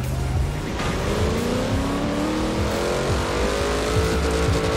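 Car engine in Forza Horizon 4 as a vehicle drives toward the player, loud and close, with a continuous revving drone and rising pitch from accelerating and shifting gears.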